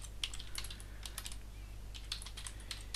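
Fingers type a computer name on a Windows 10 computer keyboard in quick clusters of crisp clicks with short pauses, close and quiet over a low electrical hum, with no voices.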